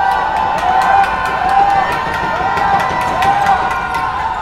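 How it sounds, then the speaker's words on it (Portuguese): Basketball arena crowd roaring continuously during a free throw in a São Paulo versus São José game of the Grande São Paulo championship, steady loud cheering with squeaks and thumps from the court. "a torcida vai à loucura"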